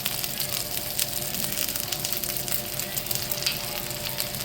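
Rice wine vinegar hits a hot pan holding chicken feet and sizzles in a loud, dense, continuous hiss that stays steady throughout, with no talking.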